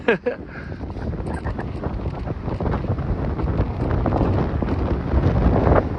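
Strong wind gusting across the microphone on a high-elevation Mount Whitney day hike, a steady roaring rush that swells louder toward the end, with no talk over it.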